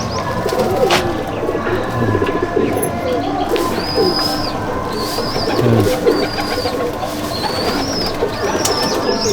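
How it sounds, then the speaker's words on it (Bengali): Pigeons in a loft coo repeatedly in soft, rolling calls close by, with occasional higher chirps and a busy background of birds and faint handling noise. "সুপার কোয়ালিটির পায়রা"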